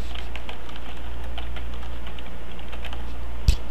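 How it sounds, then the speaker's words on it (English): Typing on a computer keyboard at a desktop, a steady run of light key clicks close to the microphone, ending with a single sharper key press; no talking. "just type in here Emerald --- replace"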